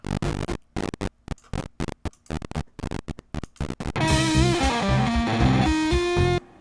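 Choppy, gated bursts of harsh, lo-fi 8-bit bitcrushed digital sound stutter rapidly, then give way to a sustained crunchy, distorted reverb tail that rings out and cuts off.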